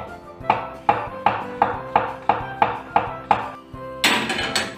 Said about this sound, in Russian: А шампиньоны нарезаю пластинками тонкими.